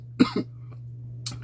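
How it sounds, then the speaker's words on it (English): A person coughing: two quick harsh coughs close to the mic, then a brief pause and a third short cough, over a low steady hum. "Like I said, sorry about the coughs."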